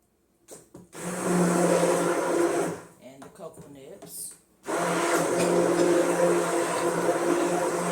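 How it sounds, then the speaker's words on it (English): A stick blender grinds plantain pieces and cocoa nibs for black soap, a loud steady motor whine that drops away briefly in the middle with softer clatter before roaring back at full strength. "some of the pieces of plantain are getting stuck on the blade of the stick blender"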